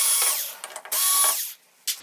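Screws being driven out of a Samsung UN60FH6003 TV main board with a power screwdriver, heard as two short whirring bursts close up, separated by brief clicks.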